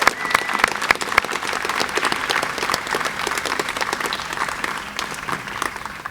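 An audience at an airport event celebrates a new nonstop route with a lively round of applause, loud, crisp individual claps standing out from a steady crowded patter throughout.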